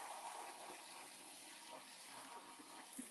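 Water runs steadily from a kitchen sink tap as a dish is rinsed, a soft, continuous splashing hiss at low volume with small clinks near the end.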